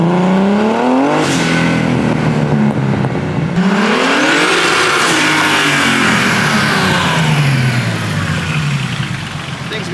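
A boosted right-hand-drive BMW E36 engine runs loud and close, rising and falling through repeated hard revs with sweeping pitch changes and a constant raspy roar.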